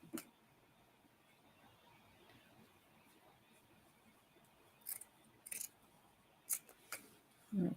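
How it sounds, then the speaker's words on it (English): Scissors trim wreath decorations with a handful of quick, faint snips spread across a quiet room, a few clustered near the end, over a low background hush. "I think I'm going to trim down the ones at the top here."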